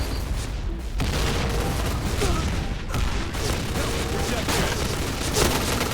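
Explosions and bursts of gunfire fill a shooter video game match, dense and loud throughout with overlapping booms and rapid light machine gun fire, a player's voice talking excitedly over the action.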